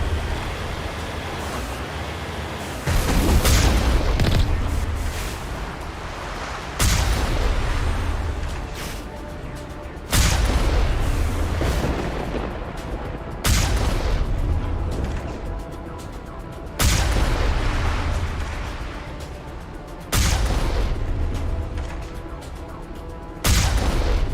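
Heavy artillery fire in Mass Effect Legendary Edition, booming blasts landing at regular intervals of roughly three to four seconds, each with a rolling roar that decays before the next.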